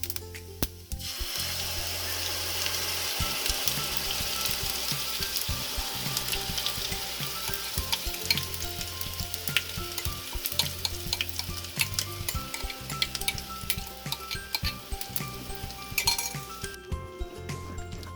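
Curd and gram flour batter paratha fries on a low flame in a pan, a steady close sizzle with frequent metallic clinks and scraping from stirring, no talking.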